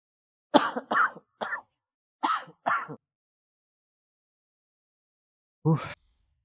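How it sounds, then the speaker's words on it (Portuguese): Several short coughs in a quick cluster, a pause, two more, then a single cough after a long silence; close and fairly clear. "Eu peço desculpas por estar tossindo só um tiquinho"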